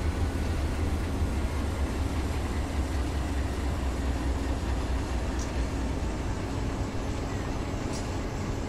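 Amtrak P098 passenger train running on the Nahunta Sub in the Run 8 train simulator game, a steady loud rumble and rolling rail drone that continues unbroken throughout.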